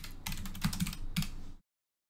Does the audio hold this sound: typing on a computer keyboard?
yes